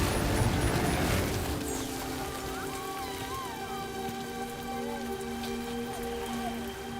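Rain in the video game Death Stranding 2 falls as a steady, dense hiss of drops on surfaces, loudest at first and easing slightly, with soft tonal hums and chirps running through it and no voices.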